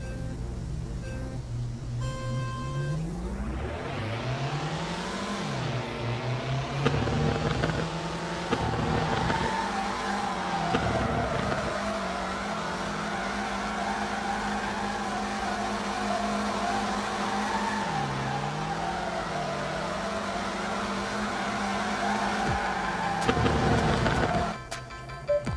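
A drift car in the game FR Legends revs hard and holds the throttle through long slides, its engine pitch rising and falling steadily while sustained tire squeal runs underneath, loud and continuous throughout.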